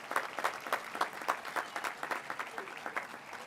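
Rhythmic clapping from a crowd at a school commencement ceremony, distinct regular claps that gradually blur into fuller applause.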